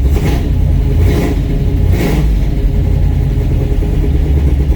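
Car engine running on a Fitech Go EFI Classic fuel-injection system, set to idle around 750 RPM, a loud, close, continuous rumble with a couple of brief rev swells, no talk.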